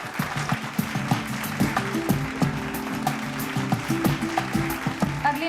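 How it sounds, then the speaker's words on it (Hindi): Applause for an award honoree at a Bihar recognition ceremony, a steady crowd clapping that runs throughout at moderate volume, with a faint voice underneath. "जोरदार तालियां हो जाए मैम के लिए।"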